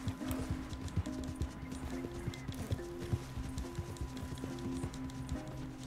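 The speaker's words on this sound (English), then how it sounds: "My horse is tired, man." Horse hooves clip-clop at a steady trotting rhythm in Red Dead Redemption 2, rendered as close, even thuds over a low game soundtrack hum.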